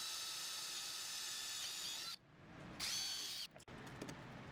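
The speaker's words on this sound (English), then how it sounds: "Remove the upper trim piece and match drill the 2 holes." A power drill bores two holes through a Humvee tunnel trim piece, its high whine running steadily, cutting off, then starting again in short bursts before dropping away, close and loud with no talk.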